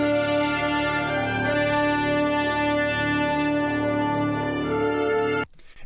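Sustained orchestral brass from the NieR Automata soundtrack, with a high trumpet line held far above a low tuba on D, a wide-spaced, steady chord that rings loudly, then cuts off abruptly near the end.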